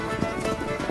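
Horses file along a calm bay shore at sunrise, hooves clip-clopping in a loose, overlapping rhythm at moderate distance, with a soft steady ambient wash behind them.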